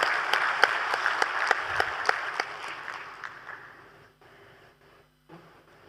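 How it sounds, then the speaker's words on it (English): An audience at a monetary policy conference applauds the panelists as they leave the stage, a dense clapping that stays steady for about three seconds and then dies away into quiet room noise. "with a very big round of applause, let's thank our panelists as they walk down the stage."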